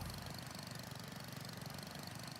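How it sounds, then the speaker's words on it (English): A mower vehicle's engine in Farming Simulator 25 hums steadily and loudly, a constant mid-pitched drone with a slightly rough, knocking texture that never changes throughout, with no talking over it. "Sounds like a VW Beetle."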